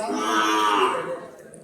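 A single drawn-out cow moo at a village cattle market, loud and close, holding steady before tapering off, with no talk over it.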